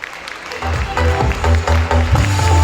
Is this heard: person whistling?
no